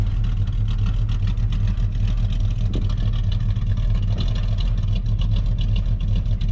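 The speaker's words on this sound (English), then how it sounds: "you can hear that boat cam. It's just got that nice lope to it" Chevy 305 V8 swapped into an S10 truck, idling with a lopey boat cam, a steady loud low rumble that continues throughout.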